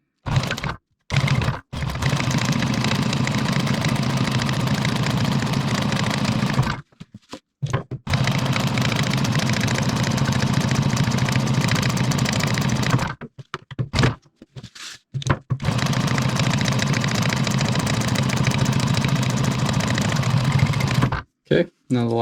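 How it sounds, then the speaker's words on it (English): A sewing machine stitching around the edges of a DIY tactical hot can pouch, running in long steady bursts of rapid mechanical whirring, close up, with brief pauses between runs. "now we're going to sew around all the edges here."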